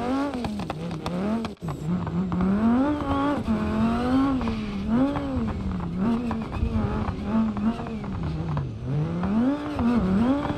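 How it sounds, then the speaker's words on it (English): A car engine revs hard under throttle in BeamNG.drive on a desert rally course at Johnson Valley, the pitch rising and falling in repeated surges as the driver works the gas, loud and continuous with no talk. "hit the throttle, bring the front of the car up"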